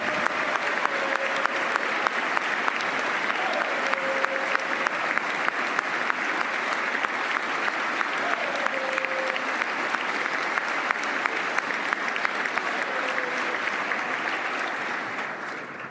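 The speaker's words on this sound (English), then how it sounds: "Somebody had to get more applause than Max." Dense, sustained applause fills a hall during the Massachusetts governor's State of the Commonwealth address, a steady wall of clapping from a large audience with faint voices and whoops mixed in, tapering slightly at the end.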